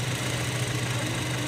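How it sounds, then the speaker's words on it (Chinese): A car engine running steadily while air leaks from the turbocharger pressure relief valve, giving a constant low hum with a faint airy hiss, close and unbroken throughout the short stretch. "这个限压阀漏气，加大油门负担一松就漏气是正常的现象"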